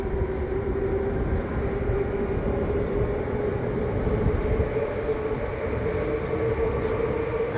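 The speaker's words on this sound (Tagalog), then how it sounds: "Ayun na yung train." A train at Conflans station in France, a continuous low rumbling roar with a steady tonal whine, loud and close, running unbroken for several seconds without speech.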